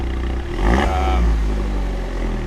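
A sports car engine with a big exhaust fires up with a brief cranking clatter, then settles into a loud, rumbling idle close by.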